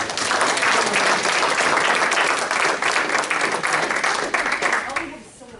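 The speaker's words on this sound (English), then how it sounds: "so give a round of applause" An audience at a political meet and greet applauds a candidate, a dense, loud wash of clapping that holds steady, then fades out at the end.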